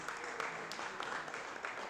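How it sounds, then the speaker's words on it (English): Applause from a conference audience at a telecommunications industry meeting, a steady, fairly faint wash of many hands clapping throughout, dense and even, with no voices standing out. "let's give an applause for our sponsors and those that provided for being here today"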